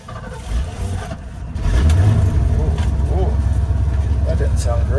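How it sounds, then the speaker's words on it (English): A 1989 dump truck that sat for a year cranks and fires up, then settles into a loud, rough, steady rumble. Voices talk briefly before it catches. "Starting up the old truck."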